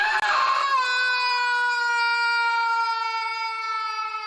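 A high, sustained scream from Bobbin in the adventure game Loom, a single drawn-out wail that starts harsh and settles into a steady, ringing tone, loud and alone for several seconds.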